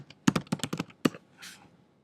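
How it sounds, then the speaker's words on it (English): Typing on a computer keyboard into a search bar: a short burst of quick, light key clicks at close range, irregular in rhythm, followed by a softer trailing clack. "if you type in the search bar"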